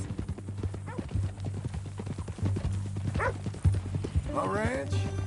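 Steady clip-clop of horse hooves in Red Dead Redemption 2, with a brief whinny near the end and voices talking over it.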